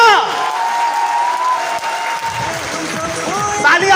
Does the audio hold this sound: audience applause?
yes